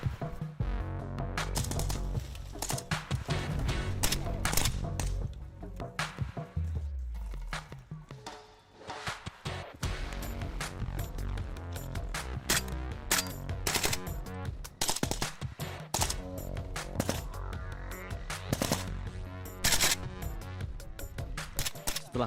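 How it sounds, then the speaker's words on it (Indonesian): Gunfire from soldiers' weapons during Kopaska naval special forces training as students run toward hilltop targets, with dense rapid bursts and single shots cracking over the whole stretch, loud and close, and occasional rustling between volleys. "Siswa berlari menuju perbukitan sasaran sembari menembakkan senjata."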